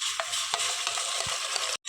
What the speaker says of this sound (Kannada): ಇದು ಎಣ್ಣೆ ಬಿಡ್ಕೊಳ್ಳೋವರೆಗೂ ಇದನ್ನು ಫ್ರೈ ಮಾಡಬೇಕು